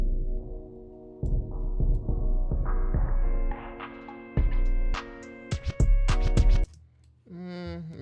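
A hip-hop beat intro played back with heavy reverb and a low pass filter, muffled sustained tones building in layers over a deep bass throb, with punchy hits midway before the sound drops out and a brief filtered tail at the end.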